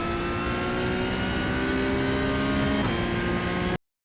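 A Porsche 992 Cup race car engine held at full throttle in iRacing at Sebring, a loud, steady high-pitched howl that holds nearly constant before cutting off abruptly.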